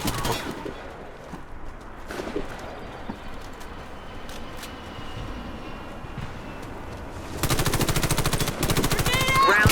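Gunfire in the online shooter Warface: sparse scattered shots and distant bursts give way to a loud, rapid automatic volley near the end, with faint background game noise throughout.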